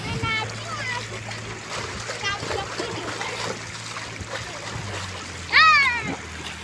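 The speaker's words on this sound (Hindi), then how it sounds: "ये देखिए मिनी झरना" A small waterfall splashes steadily into flooded rice fields after heavy rain, a continuous close wash of water while children chatter and shout over it.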